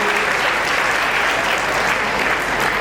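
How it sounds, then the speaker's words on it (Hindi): Audience applause at a school annual function: dense, steady clapping from a large crowd that holds at an even level from start to finish, with no talk over it. "तालियां बजा करके स्वागत करूं।"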